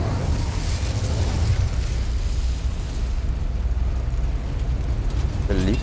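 An Incendio fire spell going off in Hogwarts Legacy, heard as a loud, continuous roaring burst that fills the whole clip, close and dense, with a voice faintly audible near the end.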